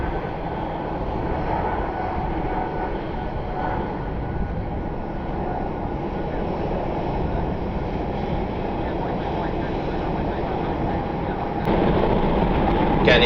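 United Express ERJ 145 regional jet taxiing toward the runway at Louisville Muhammad Ali airport during Thunder Over Louisville airshow departures, a steady broadband jet engine rumble and whine throughout, growing slightly louder near the end.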